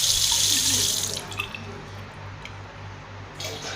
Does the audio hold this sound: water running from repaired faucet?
yes